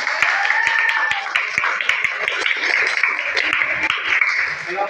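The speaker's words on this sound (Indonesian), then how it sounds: "tepuk tangan untuk kelompok ini" A classroom of students applauds a student group during a teaching-practice lesson, with dense, steady clapping from many hands that holds at an even, fairly loud level throughout, plus faint murmur beneath.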